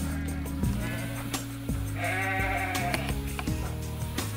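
Sheep of the Préalpes du Sud breed bleat repeatedly from a flock, several overlapping wavering calls near and clear, one after another with short gaps.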